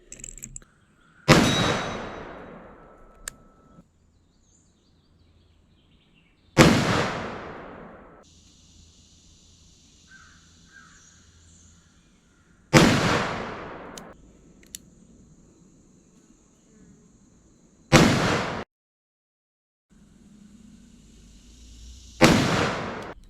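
Five loud .460 Magnum revolver shots firing Freedom Munitions ammunition, each a sharp single crack with a short decaying tail, spaced several seconds apart outdoors with quiet between them.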